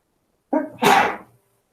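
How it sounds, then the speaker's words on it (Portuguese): A single loud, close sneeze from a man mid-lecture, a short sharp intake followed by an explosive burst lasting under a second, then silence. "Peraí que eu vou espirrar."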